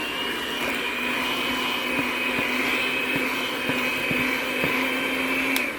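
An electric mixer whirs steadily while blending cookie dough, dry ingredients added to wet, a constant loud motor hum with faint periodic clicks and no talking.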